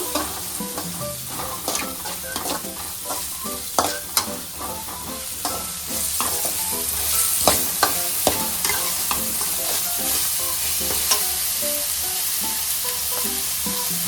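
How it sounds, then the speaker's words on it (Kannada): Onions, about a cupful, frying in a pan toward golden brown while paneer butter masala is prepared, a steady loud sizzle broken by frequent scraping stirs of the spatula against the pan. "ಒಂದು ಕಪ್ಪಷ್ಟು ಈರುಳ್ಳಿ ಗೋಲ್ಡನ್ ಬ್ರೌನ್ ಬರೋವರೆಗೂ ಇದನ್ನ ಫ್ರೈ ಮಾಡ್ಕೊಬೇಕು"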